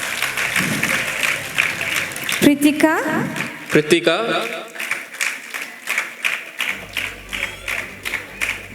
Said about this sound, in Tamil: உங்களுடைய கரகோஷங்களை நாங்கள் இன்னும் எதிர்பார்க்கிறோம்.